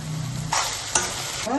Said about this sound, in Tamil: இப்போ நம்ம அதில் இஞ்சி பூண்டு பேஸ்ட் போட்டுக்குவோம்.